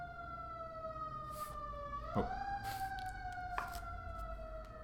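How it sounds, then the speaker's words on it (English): Emergency vehicle sirens wail in the distance, the tone sliding up and down with a few quick yelps in between. The sirens sound faint and steady over a quiet background, and one short voice speaks. "Never mind the sirens."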